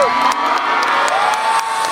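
A live concert audience at an outdoor anniversary celebration for South Sulawesi, cheering and shouting at a band, with whoops and loud applause forming a dense, continuous roar.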